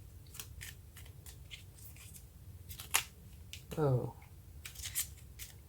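Tarot cards being shuffled and drawn for a reading, heard as a run of soft papery flicks and riffles followed by a sharper snap near the end, under a quiet room tone with a brief spoken exclamation.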